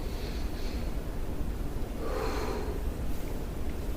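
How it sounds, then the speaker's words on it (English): A man takes slow, deep breaths from the chest, giving one long, noisy inhale-exhale swell near the middle over a steady background hiss, with no talking. "I'm going to start making myself take deep breaths from here, not from the Dantian"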